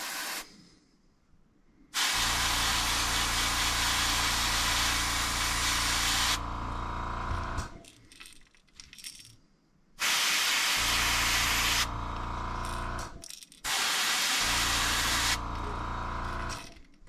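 An airbrush sprays paint onto the nose of a golden shiner fishing lure in three long, loud, steady hissing bursts separated by short quiet gaps.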